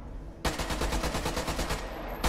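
Rapid automatic gunfire from the online shooter Caliber, a steady rattling burst of shots that runs almost two seconds at close range with no talking.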